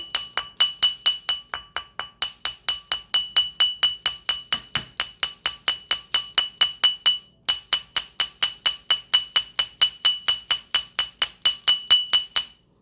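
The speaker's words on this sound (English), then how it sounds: "See, the rawhide hammer, what it does" Rapid, steady tapping of a rawhide hammer on fine 22-gauge wire, dozens of even, ringing strikes with a brief pause midway.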